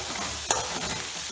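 Chopped onions fry in a pan for toor dal, making a soft continuous sizzle with a brief stirring clink near the middle.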